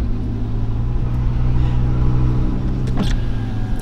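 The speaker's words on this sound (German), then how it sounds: "So, Pipo, dann fahren wir mal los." Audi TT RS car pulling away, a steady loud engine rumble with a low drone running throughout and a brief higher whine near the end.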